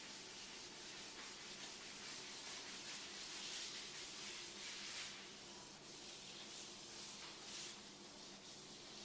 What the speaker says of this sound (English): just squirt it into your hand and then rub it along the edge